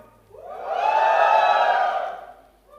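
An audience at the Poco X2 phone launch in India swells into a loud burst of cheering and shouting that peaks for about a second and then dies away.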